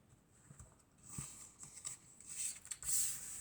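Oracle cards are handled and drawn from a deck, producing soft, faint shuffling and sliding rustles with a few light taps, quiet and close with no talking.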